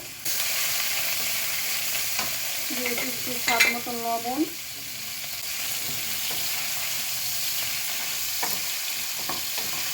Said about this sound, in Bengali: প্রথম গাজরটা ভাজবো